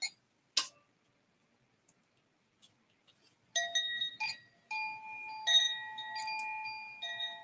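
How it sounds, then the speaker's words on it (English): Wind chimes ringing in a quiet room, a few scattered metallic strikes first, then a fuller run of overlapping sustained tones that ring on and shimmer, close and moderately loud. "let's let the chimes take us into a good energy"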